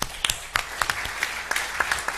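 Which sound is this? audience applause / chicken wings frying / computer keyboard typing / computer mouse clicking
audience applause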